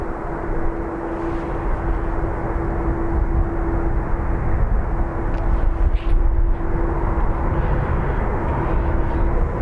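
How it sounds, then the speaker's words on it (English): An Airbus A330 airliner bound for Miami rumbles steadily at Dublin Airport, a broad engine roar with a constant hum running through it. "Here's our 330. This heading to Miami."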